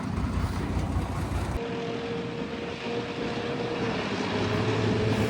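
A restored M5 gun tractor engine running and changing gear, with a continuous loud mechanical drone whose pitch shifts after an abrupt change, suggesting a quick gear change under steady engine noise.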